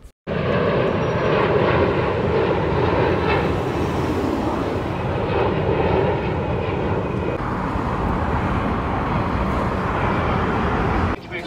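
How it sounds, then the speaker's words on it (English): An airplane takes off from an airport in Ontario, Canada, with a loud, steady engine roar heard from inside the cabin that holds constant for about eleven seconds. "It's takeoff time."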